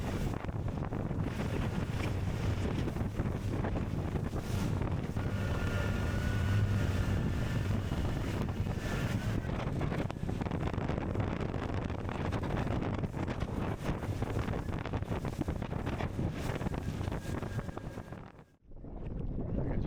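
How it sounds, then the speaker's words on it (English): A boat cruises at about 15 knots through rough water, giving a continuous roar of engine, hull slap and heavy wind buffeting the microphone for most of the stretch before a sudden drop near the end. "I'm cruising at 15 knots, 15 miles an hour."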